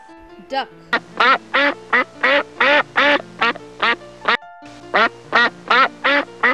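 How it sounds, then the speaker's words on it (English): A duck quacks in a steady run of about a dozen loud, close, rhythmic calls with a brief pause partway through, set against a low background hum. "duck"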